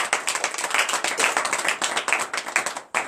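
A church congregation at a morning prayer service in Benin clapping hands in praise: quick, fairly even claps repeating close by throughout, with a brief pause near the end.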